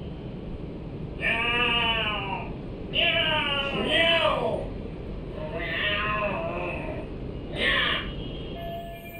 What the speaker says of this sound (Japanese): なんだ猫の喧嘩か